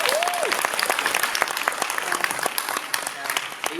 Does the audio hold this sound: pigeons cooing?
no